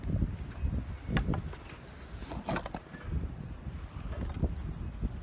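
Gusts of wind buffet the microphone outdoors during a paddle basketball game, rumbling in uneven bursts that rise and fall over several seconds.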